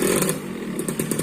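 Suzuki Satria two-stroke motorcycle starting, a short, close burst of raspy engine buzz and rattling that catches and puffs in a few quick pulses.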